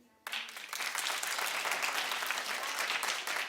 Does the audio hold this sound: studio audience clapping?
yes